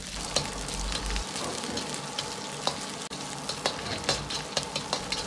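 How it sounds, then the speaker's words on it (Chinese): Diced pork belly stir-frying in a little hot lard in a wok, a steady close sizzle and crackle with scattered sharp pops and the occasional stir. "锅中再次下入少许的猪油，油热后先下入五花肉粒煸炒出香味。"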